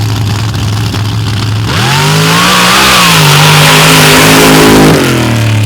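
A big supercharged 572-cubic-inch drag engine with a 14-71 high-helix blower idles roughly, then revs hard and holds a loud, deep roar before dropping off, close and powerful.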